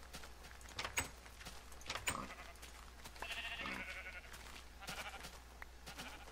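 Minecraft sheep bleating in a short burst around the middle, a nasal wavering call heard over a low steady background hum with scattered clicks and game noises, fairly faint and alone without talk.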